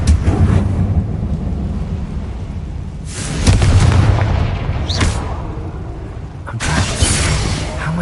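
Confringo fire-spell explosions in the Hogwarts Legacy video game: heavy booming blasts burst out in two or three loud surges over a constant rumbling din.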